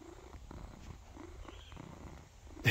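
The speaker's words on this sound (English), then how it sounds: "He's the loudest purr ever." A steady, rumbling cat purr in a quiet space, pulsing in slow rhythm, with a short bump near the end.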